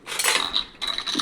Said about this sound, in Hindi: चिया सीड पीने के बाद मैं अपने पूजा के बर्तन साफ़ कर लेती हूँ।